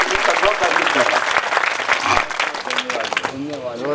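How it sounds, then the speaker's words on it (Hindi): Audience applause at a talent felicitation ceremony held by a saint's foundation at a Mahadev temple, steady dense clapping through the whole stretch with voices mixed in underneath. "डॉक्टर हीराराम जी और दान जी और मदन जी के लिए एक बार तालियां बजा दे"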